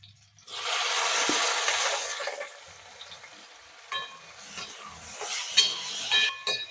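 Two small chopped tomatoes sauté in a pan for a sardine curry, starting with a sudden loud hiss that eases into a softer sizzle broken by light stirring clinks.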